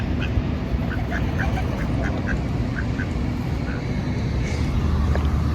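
Geese honk in a rapid series of short calls beside a canal, fairly faint against steady, loud outdoor background noise.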